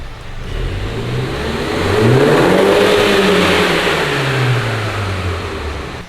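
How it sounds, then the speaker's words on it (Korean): A third-generation Mini Cooper S JCW engine revs up loudly and then eases off, its exhaust note rising and falling, close by with no talking. "이 차량 배기음도 듣고 갈게요."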